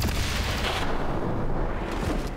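A weapon shot in XCOM 2, modded, with a loud boom leading into a sustained, dense rumble that rolls on steadily for a couple of seconds without voices.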